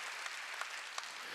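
A church congregation applauds during a Wednesday worship service, a brief burst of sustained clapping from many hands filling the room.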